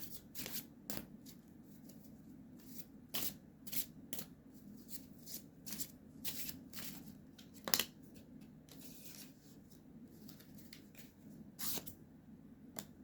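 Moon Garden tarot cards are shuffled by hand in a quiet room, producing a series of brief, crisp riffling and slapping bursts at irregular intervals, close and fairly soft, with no voice.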